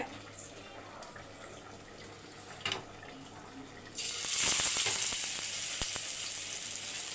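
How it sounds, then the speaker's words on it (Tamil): Fish begins frying on a hot dosa griddle, a soft hiss jumping to a loud, steady sizzle partway through and holding near and bright to the end, with no talking. "இந்த பக்கம் நம்ம மீனை வறுத்துக்கலாம் இப்போ தோசைக்கல் நல்லா சூடாயிடுச்சு"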